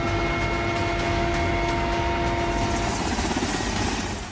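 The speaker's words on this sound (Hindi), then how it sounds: "कठिन से कठिन हालात में जिंदगी बचाने वाला भारतीय वायुसेना का Mi-17 हेलीकॉप्टर" An Indian Air Force Mi-17 helicopter thrums loud and close, its rotor chop pulsing steadily under a strong whining engine tone that holds throughout.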